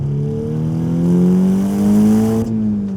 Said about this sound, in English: putting the ECU tune on this with the turbo back exhaust, downpipe, and everything really just wakes the engine up